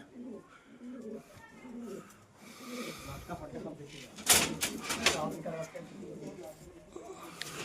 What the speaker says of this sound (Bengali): পাঞ্জাবি কবুতর এই হচ্ছে দাদার লফট